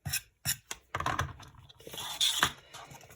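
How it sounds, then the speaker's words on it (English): A rotary cutter or blade slices fabric seam allowance along a ruler in foundation paper piecing, short scraping strokes with clicks and rasps, close and quiet with pauses between cuts. "take my ruler, cut the seam allowance."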